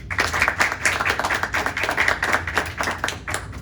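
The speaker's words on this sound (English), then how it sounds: "Give yourself one last round of applause, please." Applause from the audience closing a graduation ceremony, a steady run of dense clapping at moderate loudness that carries on with no break and no talk.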